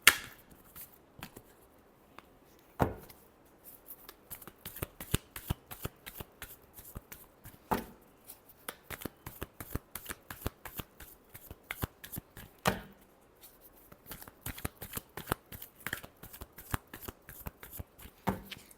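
Tarot cards are shuffled over and over in quick riffling bursts, with sharper slaps every few seconds as the deck is squared, close and crisp.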